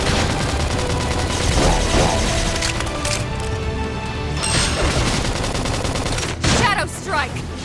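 Dense, rapid bursts of gunfire crackle and boom during a Xenoblade Chronicles X battle, layered with music and effects throughout.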